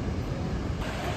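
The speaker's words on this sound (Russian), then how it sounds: "Да, водопад прям крутой." A waterfall in Antalya, swollen after heavy rain, gives a loud, continuous roaring rush close by that stays steady throughout, with no voices over it.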